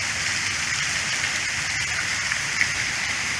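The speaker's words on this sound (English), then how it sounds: "It's also raining here." Rain falls steadily on a river while someone is out kayaking, giving a dense, constant hiss with faint scattered drop taps and no talk.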